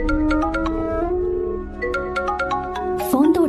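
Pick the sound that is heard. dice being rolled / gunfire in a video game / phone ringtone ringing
phone ringtone ringing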